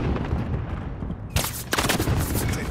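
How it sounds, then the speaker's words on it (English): In the Fortune's Keep video game, a stun grenade goes off amid gunfire. A low, muffled rumble breaks into a sharp burst of loud, rapid shots. "Stun grenade out."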